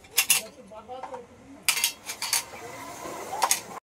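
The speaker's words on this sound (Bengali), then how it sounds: "সব ঢাকনাগুলো এবার খুলে নেব।" Lids coming off clay matka pots of frozen ice cream, a few sharp ceramic clinks and scrapes in separate bursts, close and fairly quiet, with no talk.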